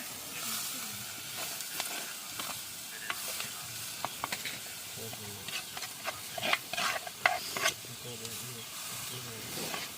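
Fish and eggplant being stirred and mixed in a pan over heat, with repeated scraping and clattering strokes and a light sizzle underneath, close by.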